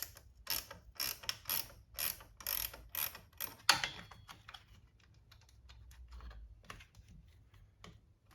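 A 10mm wrench ratcheting on the positive 12V battery terminal of a 2017-or-later Chevrolet Bolt EV, with a quick series of close sharp clicks, then quieter scattered clicks and handling noise.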